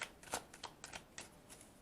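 Tarot cards shuffled by hand, a quick run of crisp riffling snaps and soft slaps with uneven rhythm, close and fairly quiet, no talking.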